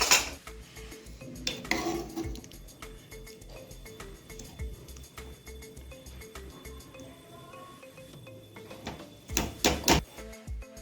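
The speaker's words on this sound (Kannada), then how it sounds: "ಈಗ ಕುಕ್ಕರ್ ತೆಗೆದು ನೋಡೋಣ್ರಿ ಅವ್ರಿಕಾಯಿ ಕುದ್ದಾವನಂತ." Pots, lids and steel utensils clatter and clink in a home kitchen as a pressure cooker of cooked avarekalu (field beans) is opened, with loud bursts of clanging at the start and end and softer scraping between.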